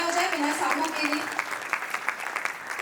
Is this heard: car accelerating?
no